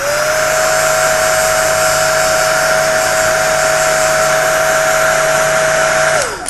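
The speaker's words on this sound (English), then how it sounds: "I use a hair dryer, so that's what this noise is going to be." A hair dryer blows on a freshly painted coat on a sculpture, a loud steady whine and airy roar that runs for about six seconds, then winds down as it is switched off.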